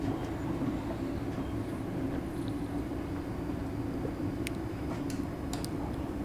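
A Class 385 electric commuter train in the simulator game Train Sim Classic, running between Glasgow Queen Street and Dunblane, with a steady loud rumble of motors and wheels, broken by a few faint clicks and no talk.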